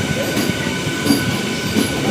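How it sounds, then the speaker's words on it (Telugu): A train at Kovvur railway station, platform 3, rumbles with steady wheel and track noise, dense broadband roar at close range with faint squeals and no clear voices. "ప్లాట్ఫామ్ నెంబర్ 3 పైకి అయితే వచ్చి ఆగింది మన ట్రైన్."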